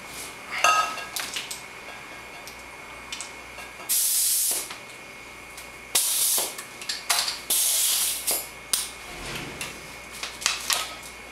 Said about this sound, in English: I'm going to connect it to our compressed air system.